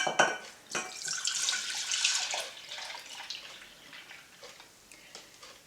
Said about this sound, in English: That's a litre of milk. So you pour that in here.